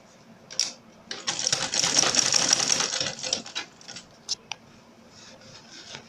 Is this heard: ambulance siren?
no